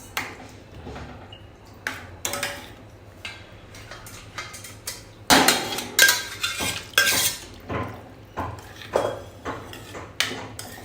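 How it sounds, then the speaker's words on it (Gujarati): A utensil stirs and mixes Kathiyawadi brinjal olo in a pan, with a rhythmic run of scraping strokes and metallic clinks that grow louder and more frequent partway through. "અને એને પ્રોપરલી મિક્સ કરી લઈશું"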